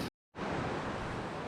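Wind gusts across a chilly motorcycle campsite in Helen, Georgia, a loud broadband rush that cuts out briefly, then returns and roars on steadily with no voices.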